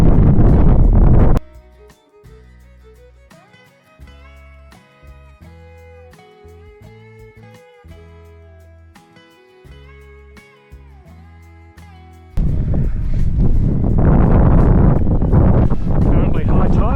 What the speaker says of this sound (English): it's as windy as hell